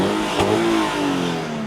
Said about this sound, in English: We got the exhaust here. I'll rev it for you.